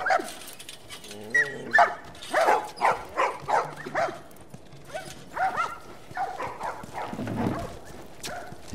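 Dogs bark in a series of short, rhythmic bursts in a slum quarantine zone in The Last of Us, moderately close, with scattered human chatter and ambient noise around them.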